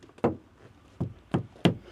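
A sound-deadened panel inside a campervan is knocked by hand four times, each a close, dull, short thump with little ring, separated by brief pauses.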